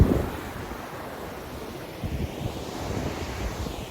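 Markandeya river flowing near Yogikolla, Gokak, heard as a steady outdoor rush of water mixed with wind noise, fairly distant and even throughout, with a slightly louder swell in the second half.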